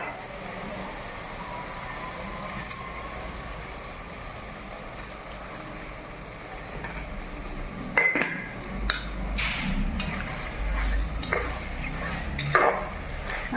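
Chicken biryani masala being sautéed in a pan: a spoon scrapes and clinks against the metal over a low, steady sizzle, with the stirring growing busier and louder toward the end.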